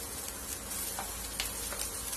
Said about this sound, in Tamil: இந்த இஞ்சி பூண்டு ரெண்டையும் எண்ணெயில போட்டுக்கலாம்.